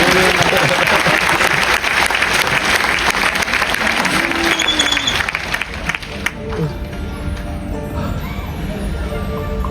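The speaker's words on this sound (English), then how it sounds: "Round of applause for Greg" A magic show audience breaks into loud, sustained applause, dense clapping filling the room before tapering off as it fades toward the end.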